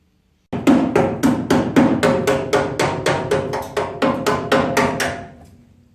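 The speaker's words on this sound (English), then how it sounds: "I was tapping on the panel with the hammer" Rapid, steady metallic taps of a hammer on a car's lower cowl panel, about fifteen sharp ringing strikes in a row, close by, then silence.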